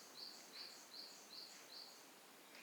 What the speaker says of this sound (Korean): 지금 바깥 대상에 새소리가 좀 많이 들려오고 있습니다.